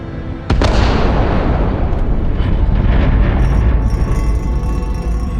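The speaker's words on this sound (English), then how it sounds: "Okay, getting ready to detonate." Detonation in a video game, one sharp, very loud blast followed by a long, dense rumbling roar of debris and echo that slowly thins out, no talking.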